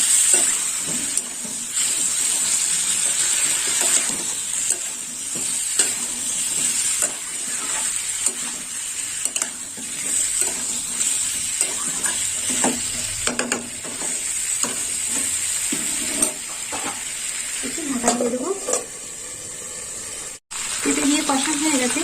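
Vegetables for a quick Bengali vegetarian curry being stir-fried in a pan, with a steady close sizzle and repeated scraping strokes of a spatula running throughout, and a voice briefly audible near the end.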